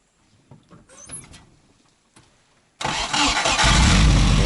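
A car engine cranks and catches on a snowy autumn forest road, quiet handling noises first, then a sudden loud start that settles into a steady, close running roar.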